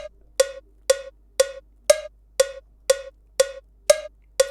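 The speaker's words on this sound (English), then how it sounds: "you can hear that the first cowbell has a higher pitch than the rest" Metronome cowbell clicks in a music production program at 120 BPM, nine evenly spaced sharp metallic hits, the first beat of each four-beat bar pitched higher than the rest, loud and close with nothing else heard.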